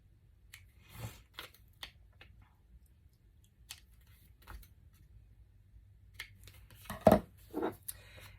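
Scissors nip the corners of paper pages for a Christmas altered book, sparse sharp snips and small crisp paper clicks close by, with a busier cluster of cuts and rustles near the end.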